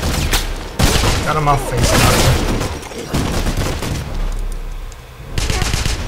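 Gunfire and a barrel blowing up in the video game Wolfenstein, with loud bursts of shots and a booming blast repeating through the clip while a player talks over the action.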